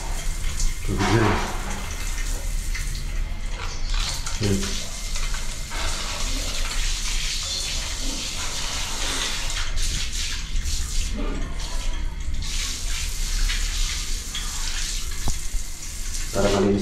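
Water from a jet matic pump runs and splashes steadily at close range, a continuous broadband rush with brief clatter and bumps mixed in.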